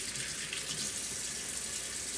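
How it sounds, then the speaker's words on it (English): Cold water runs from a kitchen tap to wash cured leeks, a steady close-up rushing splash that stays even throughout. "Get some cold water running."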